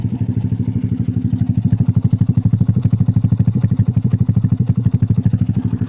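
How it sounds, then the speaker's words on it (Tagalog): A Yamaha Mio Soulty scooter bored to 199cc on a top speed run, its engine droning loud and close with a steady, fast pulsing beat that holds throughout. "Try lang natin i-top speed yung motor ni Kamatic."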